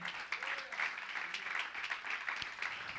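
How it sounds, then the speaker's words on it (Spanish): A church congregation claps together in a steady run of soft handclaps, heard faintly and at a distance, with no voices over it. "Dale palmas al Señor."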